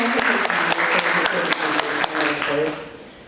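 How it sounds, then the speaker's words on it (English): Audience applause at a Democratic candidate forum in Hammond, a room of people clapping steadily with sharp individual claps audible near the front, sustained and then tapering off toward the end. "So I would like to give her a big round of applause."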